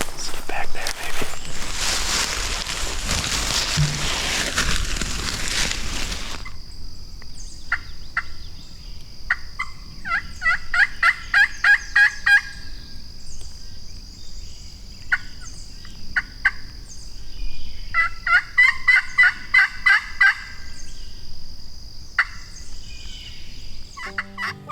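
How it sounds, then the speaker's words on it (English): Wild Osceola turkeys gobble in rattling bursts from a Florida pine woods, several rapid volleys a few seconds apart at moderate distance, with soft whispering and rustling nearby and a steady background drone. "those were the only gobbles they gave us"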